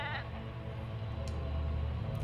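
Sheep bleating in the video game Drova, a sustained wavering call over a steady game background, fairly close and alone with no talk.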